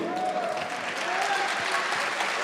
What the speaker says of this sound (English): It's what brings the applause.